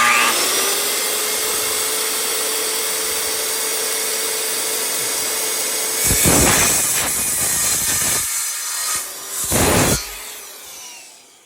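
A power saw cutting pallet wood for an outdoor bench: a loud whining hiss runs steadily, then gives way to two harsher bursts of cutting near the end before fading out, with no talk.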